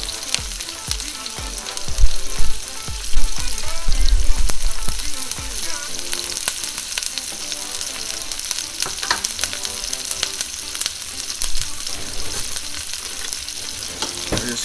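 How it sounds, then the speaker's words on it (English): Chopped onion goes into hot oil for a lamb chops biryani, giving a loud, steady sizzle throughout, with some clattering stirring and heavier bumps in the first few seconds. "once you see the oil hot. Put the onion in there"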